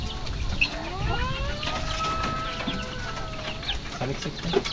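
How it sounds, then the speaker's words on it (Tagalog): A chicken clucks and calls while being fed on a farm, several rising and falling calls over close shuffling and a wing flap, with faint background noise. "I'm feeding a chicken."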